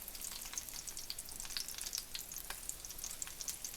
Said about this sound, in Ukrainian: Це все смажиться на невеликому вогні.